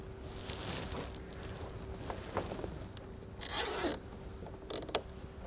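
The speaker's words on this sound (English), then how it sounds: "Run the zip tie down." A plastic zip tie ratchets tight around a looped extension cable on a heater wrap, giving a short burst of rasping clicks amid soft handling creaks and rubs in a quiet garage.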